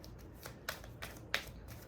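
Tarot cards are shuffled close up, making soft papery riffles and sharp flicks in short irregular bursts over a quiet background.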